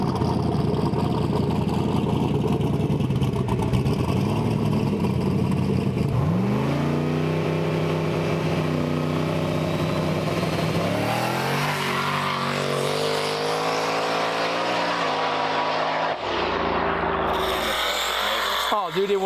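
A drag car launching hard on a Mountain Dew 4-link setup, its engine roaring at full throttle with rising revs and a steady sustained blast as the tires wrinkle, loud and close, with voices talking under the noise.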